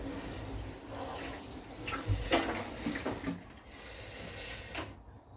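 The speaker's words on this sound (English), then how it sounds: "Water, water, that'll give all of those a water." Freshly sown seeds in pots are watered in a garden, a continuous close splashing and pattering of water with a few knocks and handling sounds, with no talking.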